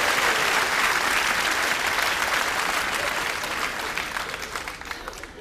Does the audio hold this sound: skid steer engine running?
no